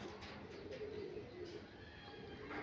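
Pigeons coo softly in a low, steady murmur over a constant background hum, with no clear pauses between calls; the birds are top-quality flying pigeons of breeds such as Kalanka, Taki and red-eyed.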